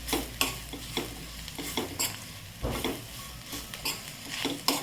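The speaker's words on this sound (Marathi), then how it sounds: "चवीनुसार मीठ घालायचं परत याला परतून घ्यायचं" Bitter gourd stir-fried in a pan with salt, a steady sizzle broken by repeated rhythmic scrapes and clatters of a spatula against the metal, close and fairly loud with no talking.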